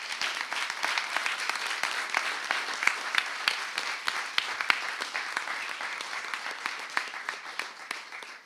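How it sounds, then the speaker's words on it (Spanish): Sustained audience applause at the second edition of an activist school event, a dense steady wash of many hands clapping with a few sharper individual claps standing out, no voices over it. "Un aplauso, por favor, ya que estamos."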